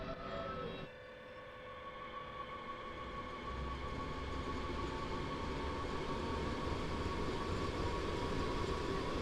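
Modded Class 187 electric locomotive in Train Sim World 2, a continuous loud electric motor hum with layered whining tones over steady rail rumble, briefly dipping before settling into a sustained drone.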